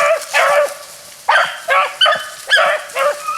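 A hunting puppy bays and barks while trailing a rabbit during a rabbit hunt in southeast Georgia, giving six loud, close barks in uneven bursts with short gaps between them.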